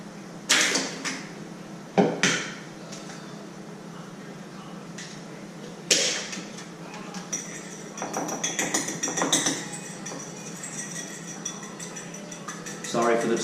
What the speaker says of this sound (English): Sorry for the scraping noises.